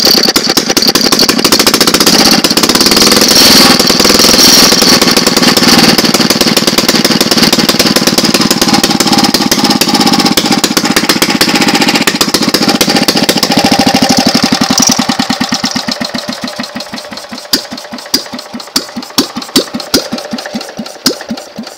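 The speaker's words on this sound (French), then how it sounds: "là il tourne au ralenti, hein, parce que sinon il est vraiment bruyant" A loud engine runs with a rough, steady idle and surging revs, then winds down into slowing, sputtering pulses near the end.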